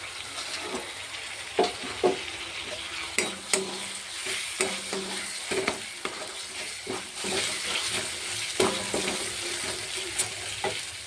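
Tomatoes hit a pan of fried ginger and garlic and sizzle steadily, with scraping stirs and clinks of a spatula at irregular intervals, close and fairly quiet, no voices.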